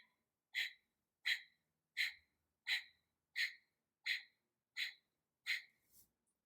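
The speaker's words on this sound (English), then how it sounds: "Take another inhale." Eight quick, evenly spaced nasal breaths during pranayama breathing practice, each a short, close, breathy puff followed by a brief pause, with no talking.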